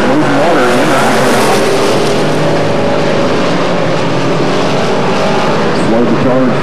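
Several race cars circle a speedway, their engines roaring loudly and sweeping up and down in pitch through the corners, with tires sliding and an announcer talking over the noise throughout.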